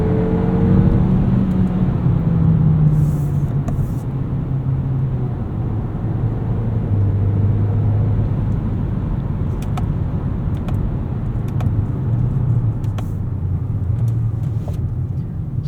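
A 2026 Kia K4 Hatchback GT-Line turbo with an eight-speed gearbox accelerates from the driver's seat, engine note climbing through the revs with shifts and a steady loud cabin rumble, no talking.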